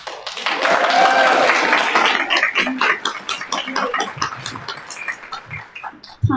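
Audience applause at a candidate forum, a dense burst of clapping that swells early and then thins out into scattered claps, fairly loud in a room.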